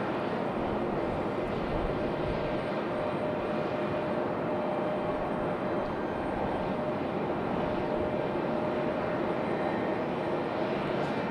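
An aircraft at Raleigh-Durham International Airport roars in a steady, broad engine drone that holds loud and unbroken throughout, heard from an outdoor spotting spot.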